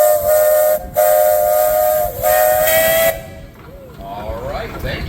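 A steam traction engine at an Illinois steam power show sounds its whistle in three loud, shrill blasts with short breaks between them, then trails off into a breathy hiss of escaping steam.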